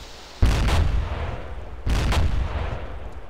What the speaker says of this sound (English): Control detonation.